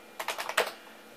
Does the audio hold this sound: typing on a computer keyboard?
yes